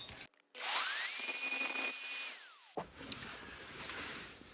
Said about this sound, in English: we can get a hole punch on and put a drill in there now.